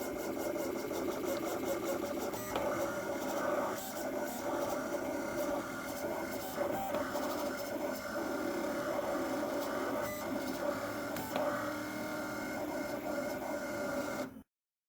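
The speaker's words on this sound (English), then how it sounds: "that's what it looks like when a machine's cutting out the vinyl for a sticker or a t-shirt" A vinyl cutter slices vinyl for a t-shirt transfer, giving a steady mechanical whirring and rattling with repeated motor sweeps, loud and continuous until it stops abruptly near the end.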